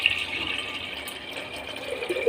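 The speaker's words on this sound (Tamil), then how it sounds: "இதில் கொஞ்சம் தண்ணி ஊற்றிக்கலாம்." Water pours steadily into a clay pot with a continuous splashing trickle, close by and moderately loud, no voices.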